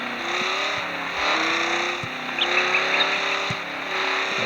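A JAZZY car's engine drones steadily as it drives in the game Off The Road, with harmonic tones climbing through gear shifts, occasional bumps, and a few faint higher chirps midway, holding at a fairly constant loudness throughout.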